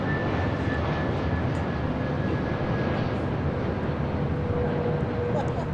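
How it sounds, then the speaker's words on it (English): An American Airlines A321neo arriving at LAX from Philadelphia, with a steady, moderately loud jet engine rumble and a faint whine, heard continuously as it approaches; a person talks over it. "American Airlines 1799 coming in from Philadelphia on an A321neo"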